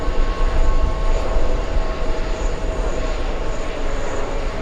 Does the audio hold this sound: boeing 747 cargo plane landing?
yes